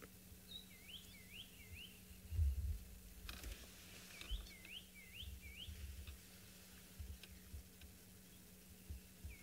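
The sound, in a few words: bird calling, an alarm call warning of big cats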